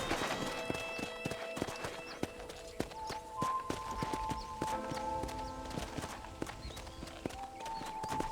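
Horse hooves clip-clop at a steady walking rhythm in the Red Dead Redemption video game while riding near a ranch barn, with occasional sharper hoof hits over faint game music.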